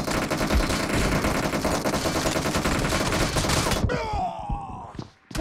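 Rapid automatic gunfire from the video game PUBG rattles loudly and continuously for about four seconds, then stops abruptly, leaving a few fading ringing echoes.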